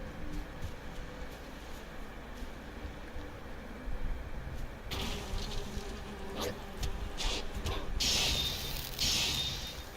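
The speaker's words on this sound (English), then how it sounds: "Some more bees." Bees buzz in the video game Valheim near a player's base, a steady insect drone under game ambience, joined later by sharper bursts of combat and impact sounds.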